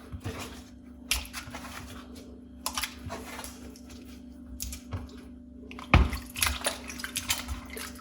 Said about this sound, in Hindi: अब यहाँ पे मैं पानी में डाल के इनको अच्छी तरह धो लूंगी।